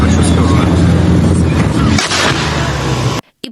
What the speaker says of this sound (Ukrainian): за лічені секунди снаряд вибухає поряд із авто